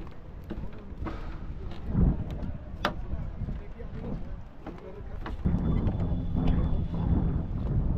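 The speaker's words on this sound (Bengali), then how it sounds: "আচ্ছা, এখানে ঠান্ডা হাওয়া" Gusty sea wind at Kankra beach, Cox's Bazar, buffeting the microphone in uneven bursts, with a person talking at times over the rushing air.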